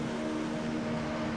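Race car engines hold a steady high drone on the starting grid at Circuit de Spa-Francorchamps in a Formula-style racing video game, a continuous tonal hum with no breaks and no talk.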